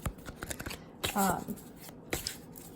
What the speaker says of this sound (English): This deck shuffles so nicely.